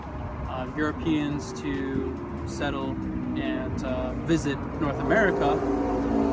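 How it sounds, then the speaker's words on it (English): Loud road traffic rumbles steadily past outdoors, cars passing continuously behind someone speaking close to the microphone throughout. "excuse the loud traffic."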